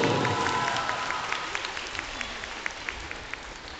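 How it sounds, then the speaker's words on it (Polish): Audience at the Jump Malogoszcz 2011 stage event applauds the Jumping Bull performers, a steady dense wash of clapping and crowd noise at moderate volume with a few sharper claps standing out toward the end. "gorące brawa dla Jumping Bull!"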